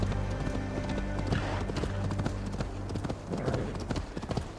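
Horse hooves clip-clop at a walk in Assassin's Creed Valhalla, a close, steady sequence of clacking steps with an occasional whinny, set over a low game music bed.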